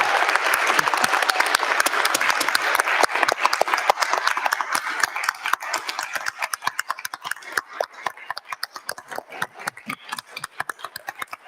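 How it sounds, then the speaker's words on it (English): A sangha at the Zen Buddhist Temple of Toledo applauds new Shoken students: thick group clapping at first that gradually thins into sparser, distinct claps as it winds down, with no talking. "But let's begin with just a round of applause for our new Shoken students."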